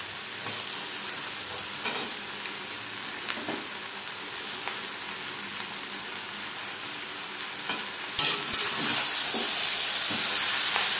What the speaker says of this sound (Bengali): পেঁয়াজের সাথে মাংস বেশ ভালো করে মিক্স করে দেবো।